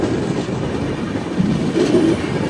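A Mumbai–Thiruvananthapuram express train runs on rails on the descent from Lonavala, heard from aboard as a steady rolling rumble with rhythmic clickety-clack and a faint wheel squeal near the end, with no talk.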